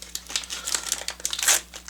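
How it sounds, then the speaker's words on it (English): Baseball's Greatest Gross Outs trading card wrapper packs being torn open by hand, a close, loud run of crinkling and tearing foil-like paper in rapid bursts, with no talking. "We're gonna open all 36 packs of these."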